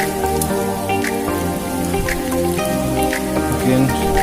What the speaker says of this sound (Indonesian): Hujan semakin mengguyur guys.